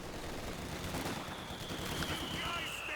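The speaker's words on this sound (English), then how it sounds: "coming under fire from the assault grenadiers. And those guys with the MP40s" Dense, continuous battlefield gunfire from Company of Heroes 2 as assault grenadiers open up with MP40 submachine guns, a steady crackle of overlapping shots with no pauses, mixed with other combat noise throughout.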